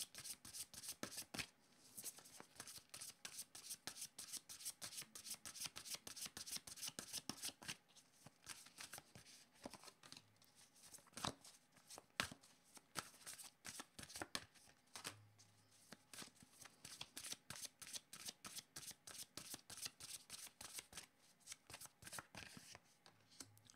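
A deck of tarot cards is shuffled close up in a long run of quick riffling flutters and soft slaps, repeated rhythmically with brief pauses and a little quiet speech.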